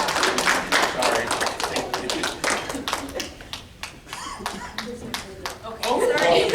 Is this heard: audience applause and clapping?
yes